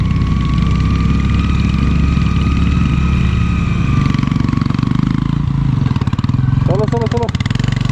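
A motorcycle engine revs hard and loud, close by, on a rough mountain road in Spiti Valley, India, while the bike is stuck and its front tyre has jammed; the engine roars steadily with people talking over it.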